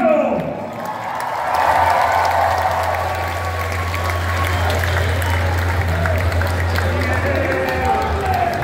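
Loud audience applause at a concert in a beer hall, dense clapping with cheers and whoops from a lively crowd, voices shouting underneath and a low steady hum running through.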